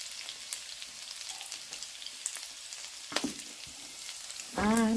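Onion and garlic stir-fry in a hot pan with a soft, crackly sizzle and scattered spatters. Near the end, a brief clatter of utensils and a louder hiss break in.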